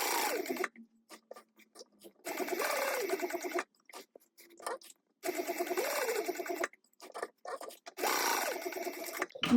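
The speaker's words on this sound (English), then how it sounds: "now I'm going to top stitch across the bottom at 1/8 of an inch" A domestic sewing machine top stitching across the bottom of a fabric wristlet 1/8 inch from the edge, running in several loud close bursts separated by brief pauses, with no voices.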